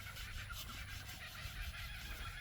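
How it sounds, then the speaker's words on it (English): Rasp laid flat and drawn across an elephant's toenail, a faint, steady scraping rasp repeating in short strokes, close up with no talk. "Then we'll lay the rasp flat. We'll go over the entire thing."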